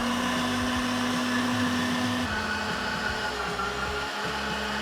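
A food processor grinds parsley and onion for kafta, a loud steady motor whine close by that shifts pitch partway through as the load changes, running without speech.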